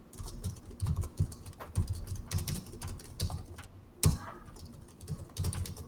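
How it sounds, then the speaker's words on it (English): Rapid keyboard typing clicks away in uneven bursts, close and fairly soft, with a sharper keystroke standing out partway through. "Is that you typing?"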